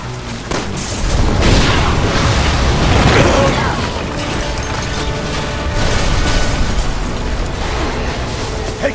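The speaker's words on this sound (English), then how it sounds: "Shoot the gas! We can blow these things to kingdom come!" Gas explosion in the video game Resident Evil 6, a loud sustained blast with rumbling booms and debris swelling across the whole stretch, with mechanical game noise mixed in.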